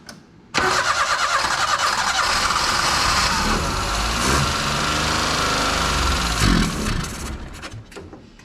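A minitruck engine with a carburetor, primed after being stuck, cranks and catches abruptly, then runs at a steady rough idle, loud and close, with a brief surge before it dies away near the end.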